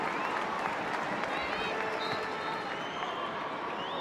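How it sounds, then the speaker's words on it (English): A large crowd at a women's international football match in Middlesbrough applauds in a steady, distant wash of clapping that fills the stadium, with a commentator speaking over it. "Back in Middlesbrough, the crowd applauds."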